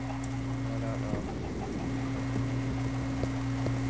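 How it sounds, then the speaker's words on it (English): Chickens spawned in a Minecraft vanilla survival game give a few soft, short clucks over a steady drone of background game sound. "Chickens! I'm spawning chickens."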